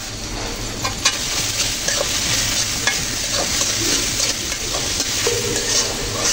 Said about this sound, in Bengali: তো মশলাগুলো ভালো করে কষে নিতে হবে।